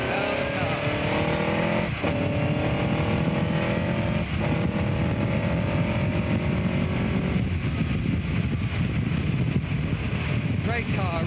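A 1959 Cooper-Climax race car drives hard, its engine loud and close with rising and falling revs through gear changes, wind rushing over the microphone, and someone talking over it.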